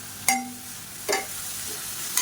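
Carrot and onion sauté in a pan with a steady low sizzle, broken by three sharp metallic scrapes of a spoon stirring. Everything sounds close and there is no talking.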